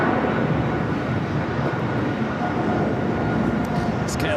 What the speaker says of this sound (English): It's KLM at 777 wearing the KLM Asia livery.